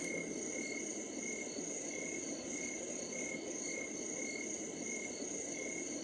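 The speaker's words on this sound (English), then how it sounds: "actually does sound like a summer night" On its summer night setting, a Homedics SoundSpa white noise machine gives off a steady chorus of chirping crickets and insects, even and continuous with no voices.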